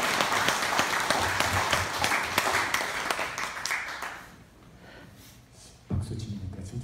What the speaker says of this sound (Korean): 여러분 박수 한번 주십시오.